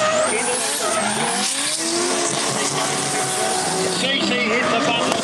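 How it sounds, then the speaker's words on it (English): A pro drag racing car launches with its rear tyres smoking, giving a loud, sustained roar and tyre screech at close range, with commentary running over it. "look at Cece, gets his car set down, the smoking tyres on the back of it"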